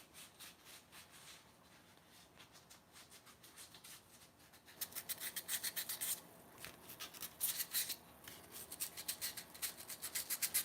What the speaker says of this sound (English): I like to sand them before I send them out so people get a nice quality product.